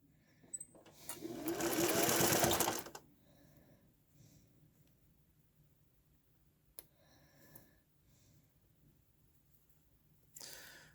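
A sewing machine stitches a fabric mask in one loud close burst of about two seconds, then falls quiet, with soft breathing and small clicks after and a brief restart at the end.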